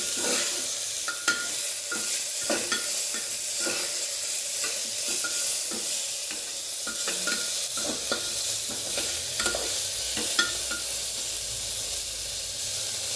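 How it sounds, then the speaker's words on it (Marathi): Carrots and peas sautéing in a pan, a steady close sizzle and hiss with repeated stirring scrapes and clinks throughout, no voices. "यातच घालून घेणार मी मटार. ते देखील असे चांगले परतून घेणार आहे."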